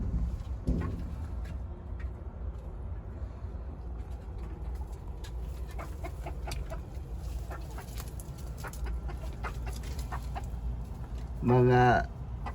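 Texas hens cluck softly on a farm with scattered low calls throughout, a louder, close squawking cluck near the end, over constant background noise.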